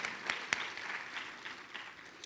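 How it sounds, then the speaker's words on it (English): A hall audience claps at a Miss Jabberwock program for parents and families: scattered, moderately loud claps with a few sharp individual hits at first, settling into lighter, uneven clapping. "Can we give them a round of applause?"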